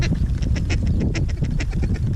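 Ducks quacking loudly and continuously during a duck hunt, a close, busy chorus of overlapping raspy calls with no talk.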